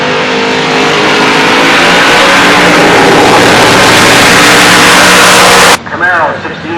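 Nostalgia drag racing cars, including a Henry J and a Nova, roar loudly down Woodburn Drag Strip in a sustained, rising engine blast that cuts off sharply near the end, leaving crowd and ambient noise.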